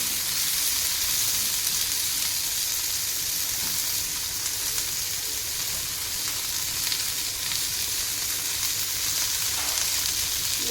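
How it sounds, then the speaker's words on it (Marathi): Spice masala for stuffed bitter gourd sautéing in a pan, giving a loud, continuous close-up sizzle and hiss with occasional stirring underneath, no voice. "मसाला चांगला परतून द्यावा लागतो"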